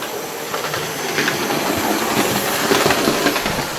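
A Hornby 28XX model steam locomotive runs along its track with a steady, close whirring rumble and light rhythmic rail clicks, heard alone without speech.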